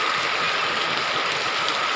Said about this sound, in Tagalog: Malakas ang ulan mga kaginap,